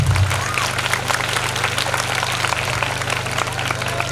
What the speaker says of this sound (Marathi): याच्यासाठी सगळ्यांनी जोरदार टाळ्या वाजवायच्या आहेत